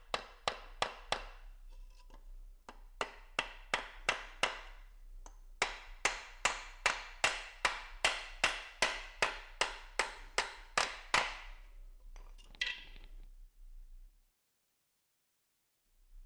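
Hammer strikes driving common nails into wooden pantry pieces of a Sears kit house, about two dozen crisp, close blows in quick even runs with short pauses, then silence at the end.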